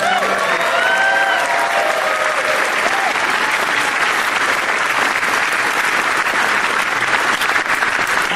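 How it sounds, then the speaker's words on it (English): Loud, continuous crowd applause at a convention closing ceremony, with a few cheers and whistles rising over the dense clapping early on before it settles into an even roar. "You may clap."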